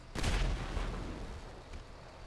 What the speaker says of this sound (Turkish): Üçü birden havaya uçtu.